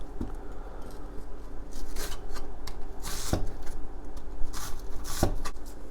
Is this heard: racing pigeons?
no